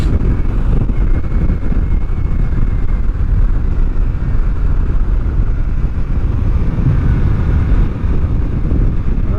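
A BMW F850GS motorcycle accelerating along a road, its engine a steady loud rumble mixed with heavy wind buffeting on the microphone throughout, with no talking.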